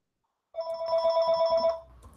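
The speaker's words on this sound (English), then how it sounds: "my phone is ringing" A telephone rings once with a bright, steady electronic trill lasting about a second, then fades into quiet room noise.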